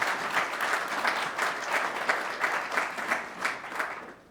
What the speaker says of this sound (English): I just want to have a round of applause for our existing officers.